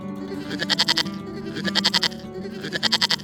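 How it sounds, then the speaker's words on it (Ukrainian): A goat bleats in three quick, wavering bursts, loud and close, with short pauses between them. "Хто це може бути, дітки? Вірно, коза."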